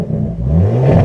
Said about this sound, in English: if I open up the door, you might be able to hear a little exhaust.